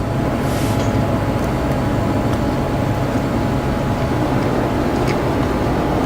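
Steady, loud, unbroken rumble of an overpowered train locomotive engine on the Feather River line in a railroad simulator game, with faint squeals and clanks riding over the continuous drone.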